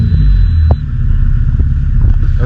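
A 1998 JDM Honda Integra Type R DC2 engine idles steadily up close, a continuous low rumble with a brief uptick partway through and no voices.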